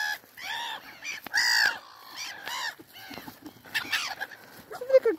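Several harsh, squawking bird calls repeat at irregular intervals, fairly close, over a faint outdoor background.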